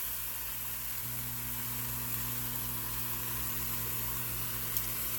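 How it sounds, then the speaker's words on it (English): Onions sauté in a pan with a soft, steady sizzle for a beef sub sandwich, a continuous even hiss with a low hum underneath and no talking. "So those sauteed onions are almost ready."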